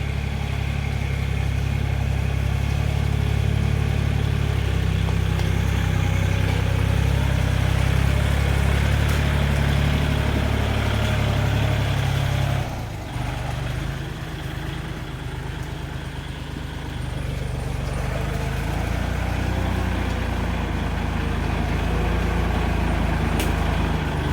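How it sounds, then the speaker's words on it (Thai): A farm tractor rumbles over a rough, bumpy road, its low engine drone steady and close, briefly dipping midway before resuming, with no voices. "เวลารถไถวิ่งที่ถนนสุดโหดเนี่ย เหมือนมันจะล้มยังไงก็ไม่รู้นะคะ"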